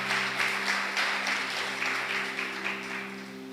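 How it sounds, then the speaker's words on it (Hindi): A church congregation claps through a Hindi-language sermon service, a steady wash of applause at moderate distance over a held keyboard chord, with no speech over it. "ताली बजाएंगे परमेश्वर की महिमा।"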